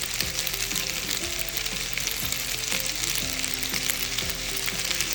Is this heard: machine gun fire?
no